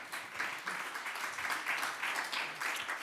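An audience at a panel event applauds, producing a dense, even wash of clapping from many hands that holds steady, moderately distant and fairly soft, with no speech.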